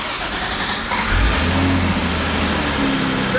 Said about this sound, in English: Starting the car now.